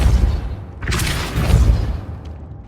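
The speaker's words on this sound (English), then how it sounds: "Making this spin ought to raise that platform." A spinning mechanism set off by the Depulso spell to raise a platform in Hogwarts Legacy: a low rumbling boom swells around the middle, carrying a brief bright whoosh, then fades back to a dull hum.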